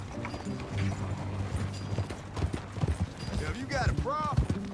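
Horse hooves clip-clopping in Red Dead Redemption 2, a quick rhythmic run of hoof beats under game dialogue and ambient sounds, fairly close and moderately loud.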